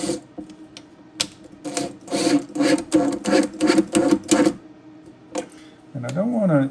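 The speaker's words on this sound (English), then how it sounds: "I need to go ahead and install the screws that secure it into the bottom." A power driver spins number 8 by 3/4 inch screws into a wooden battery box in a series of short whirring bursts, close and fairly loud, with pauses between and a rising motor whine at the end.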